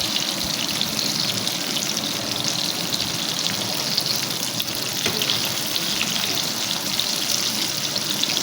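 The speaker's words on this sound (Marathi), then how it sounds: "मीडियम टू लो फ्लेमवर 5 मिनिट एकच साईडनी फ्राय करून घ्यायचं आहे." Barracuda fish pieces frying in a pan over a medium-low flame, a dense continuous sizzle and crackle with fine spitting pops, loud and close and steady from start to finish.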